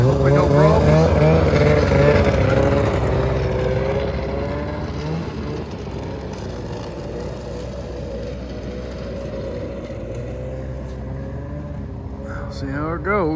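A snowmobile revving as it is driven up onto the back of a truck, its engine whining and rising in pitch, then settling to a steady idle, with people talking close by.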